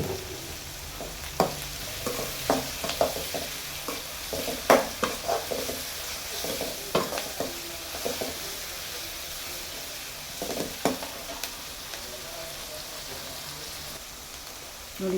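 Onions frying in a pan for chitranna, salted to brown quickly: steady close sizzling with irregular scraping and clacking as they are stirred, a spoon or spatula striking the pan every second or so.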